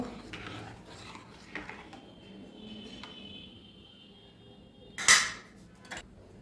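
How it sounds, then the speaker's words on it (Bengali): Dal being stirred in a pot after sugar and salt go in, with a spoon giving soft scrapes and taps against the metal and one sharp, loud clatter near the end, otherwise quiet. "পরিমাণ মতো চিনি দিয়ে দেবো সব ভালো করে একসঙ্গে মিশিয়ে নেব"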